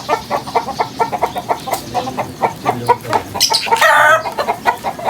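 Chickens clucking in a steady, repeated rhythm close by, with a rooster crowing loudly in one strained call near the end, set among farm fowl.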